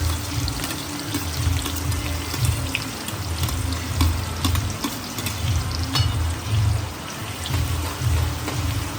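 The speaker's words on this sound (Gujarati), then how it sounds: "ડુંગળી ગોલ્ડન બ્રાઉન થાય ત્યાં સુધી થોડી સાતળવાની" Finely chopped onions frying in a pan for kantola (spiny gourd) curry, a dense, steady hiss and sizzle with faint scraping of stirring throughout, close and continuous, no talking.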